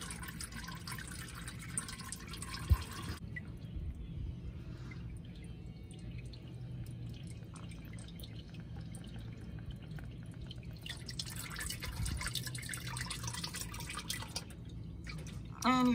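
Engine oil draining from the drain plug of a 2019 Silverado 5.3L, a faint continuous trickle and drip into a pan, with quiet background noise and no talking.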